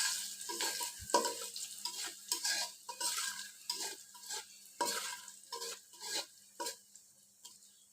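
Onions frying in a pan until reddish for a magur fish bhuna, soft and fairly quiet, with intermittent bursts of spatula scraping and a light sizzle between them.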